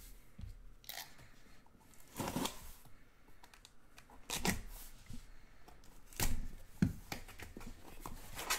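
Foil packs and boxes from an Upper Deck Black Diamond hockey card case torn open by hand, scattered crinkly rips and crunches up close with quieter handling in between.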